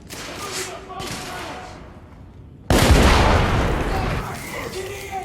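Sharp gunshots in a shootout from The Order: 1886, a few loud cracks early, then a heavy booming volley that swells and lingers, with shouted voices in the mix.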